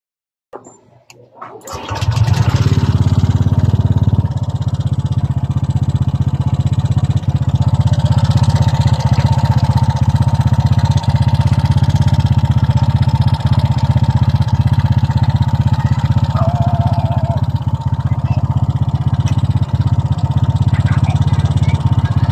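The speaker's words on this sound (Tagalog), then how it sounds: "Kaya ulit tayo ng susi at paandarin natin ang kanyang motor." A Honda Click 125 scooter fitted with a new engine block, cams and valve springs starts up and then idles loudly and steadily at close range, a continuous rattling engine drone.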